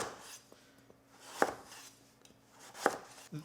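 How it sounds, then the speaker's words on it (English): A knife cutting through Koginut or Delicata squash on a board, two crisp, firm chops about a second and a half apart, close and fairly quiet, with no speech. "We're going to just cut it in half and then cut this into just some wedges"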